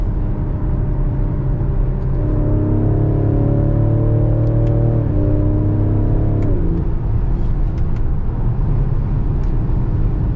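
A 2021 Ford Explorer ST with a 3-liter V6 accelerates hard, its loud, close engine note climbing steadily in pitch, then dropping briefly as if shifting before pulling on again. No one speaks.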